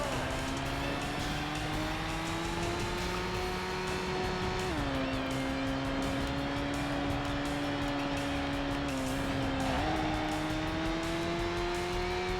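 Car engine in the Tokyo Road Race arcade game, a loud steady whine holding a high pitch with brief dips as gears shift, mixed with tire noise, continuous and close for the whole stretch.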